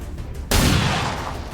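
A single sharp pistol shot in XCOM 2 cracks out loud and close after a quiet lead-in, its burst of noise ringing and slowly fading.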